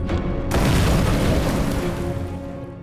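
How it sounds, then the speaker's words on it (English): A single wartime grenade explosion bursts into a loud, heavy boom that rolls out and decays slowly over a few seconds. "he takes a grenade and throws it towards Léo Major"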